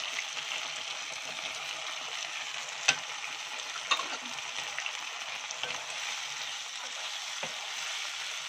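Onion and capsicum fry steadily in a pan, a continuous close sizzle with a few sharp clicks of a utensil stirring through it, no voices.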